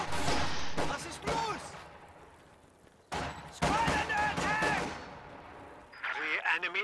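Rapid bursts of gunfire crackle through a strategy game battle as conscript infantry engage grenadiers, the shots sitting mostly under a commentator's steady talk.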